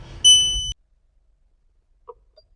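A Skoda car's warning alarm sounds as one loud sustained electronic tone lasting about half a second, followed by silence and a couple of faint clicks.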